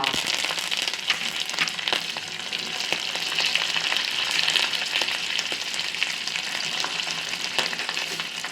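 A tempering of green chillies, ginger, peppercorns, hing and curry leaves fries in hot oil for South Indian Ven Pongal, giving a dense, continuous sizzle and crackle heard up close with no voices.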